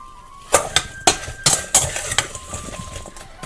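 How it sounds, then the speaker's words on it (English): A spoon scrapes and clinks against a bowl at irregular intervals as brown sugar is gently stirred into cut-up peaches, close and crisp, with soft background hum between strokes. "So there's my brown sugar mixing gently with my cut up peaches"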